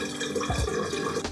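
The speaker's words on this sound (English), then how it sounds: "We're gonna add water to bring that up to our" Distilled water poured from a bottle into a flask to the one-liter mark while mixing black-and-white film developer at home, a brief close trickle and splash of liquid.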